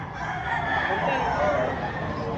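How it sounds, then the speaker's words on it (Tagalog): A gamefowl rooster crows in one long, loud, close call that lasts the whole stretch, over a background of farm noise. "Yan, maayos na manok."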